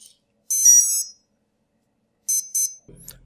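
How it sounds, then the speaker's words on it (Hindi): After a drone battery is connected, the motor ESC gives out a short set of beeps: one longer high electronic tone, then two brief quick beeps, alone against silence. "तो बैटरी को कनेक्ट करने के तुरंत बाद ही ESC को बीप बजाना स्टार्ट कर देगा।"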